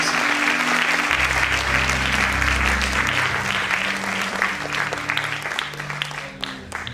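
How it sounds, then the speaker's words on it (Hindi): A church worship crowd applauds loudly and continuously, dense clapping filling the space for several seconds over a low sustained musical drone. "परमेश्वर को जोरदार ताली बजाएं"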